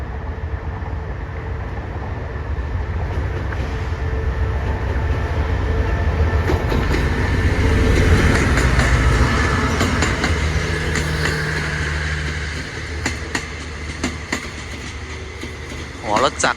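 A Chinese-built locomotive and carriages rumble past on the rails at the Rama VI Bridge with a loud sustained roar, rhythmic clacking of wheels and occasional squeals, fading slightly at the end.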